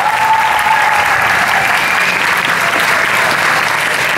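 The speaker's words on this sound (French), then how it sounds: "Allez, ben venez, on les applaudit s'il vous plaît." An audience at a Paris Manga convention applauds children from a charity, a loud, dense, sustained wash of clapping filling the whole moment with no talk over it.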